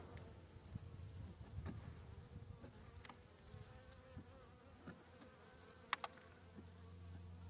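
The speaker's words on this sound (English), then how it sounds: "Come on, bee, get out of the way." Honeybees buzz as a steady, low, continuous drone inside a hive opened for a February check while sugar bricks are placed over the cluster, with no talk over it.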